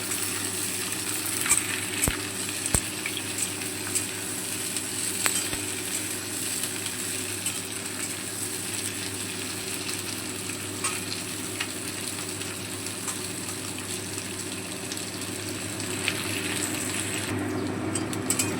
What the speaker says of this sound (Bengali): এবারে সবজিগুলো সব তেলের মধ্যে ভালো করে লাল করে ভেজে নেব